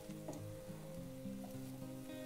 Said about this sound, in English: we're going to turn this Wagyu steak over and you can see that just beautiful brown coming out